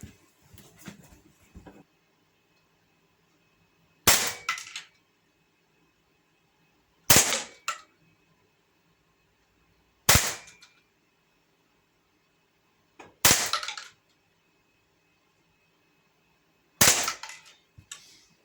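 Five separate Sig Sauer M17 air pistol shots fired with a fitted adjustable rear sight, each a sharp crack with a short tail, spaced a few seconds apart in a quiet setting.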